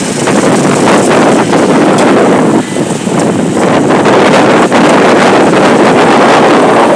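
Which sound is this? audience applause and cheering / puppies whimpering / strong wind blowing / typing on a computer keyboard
strong wind blowing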